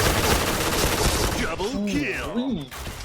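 Fire from the Pink Dragon gun in the Point Blank shooter game: a dense, rapid stream of shots fills the first half, loud and close, then breaks off as game sound effects take over.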